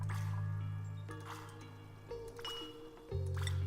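Water dripping and leaking into an underground base in the game Oxygen Not Included, heard as soft drips and pings over a sustained low hum of game sounds, with no voices.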